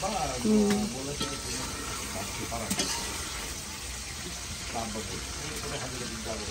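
Pangas fish fries in oil with a steady, crackling sizzle that runs continuously at moderate volume, as voices talk over the cooking.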